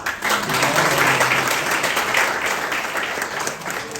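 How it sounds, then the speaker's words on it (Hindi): A college book-talk audience in Pune breaks into steady, full applause, a dense wash of clapping that holds for several seconds. "ताली हो जाए।"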